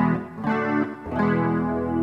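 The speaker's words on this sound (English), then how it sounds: "you can actually hear the reverb that I've got selected" Standard reverb effect on a Ketron Midjay Pro sound module, heard on a sustained harmonic tone that swells and decays with a lingering wash between phrases, no talking.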